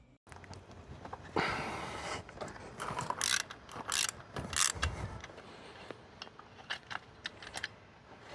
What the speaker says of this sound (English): now we have to remove the tensioner and pulley. They have a pretty thick Torx. T50.